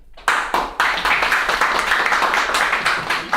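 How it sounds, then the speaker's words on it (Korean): Audience applause at a startup pitching and networking event, a steady burst of many hands clapping close and loud, rhythmic and dense for a few seconds with no talk over it. "다시 한번 뜨거운 박수"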